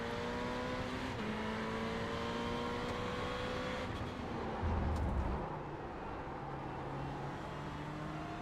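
A Ferrari GT3 race car engine in iRacing at Barcelona whines steadily through gear changes, pitch sliding down and rising again, with a brief low thump midway.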